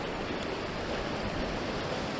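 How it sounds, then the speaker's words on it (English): Mountain stream in Snowdonia pouring out of a tarn down toward the valley floor, a steady broadband rushing of water with a deep low rumble, continuous and fairly close with no voices. "A lovely stream coming up here."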